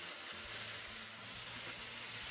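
Meat browning in a pot gives a steady, dense sizzle and frying hiss, close and unbroken throughout, with a faint stir.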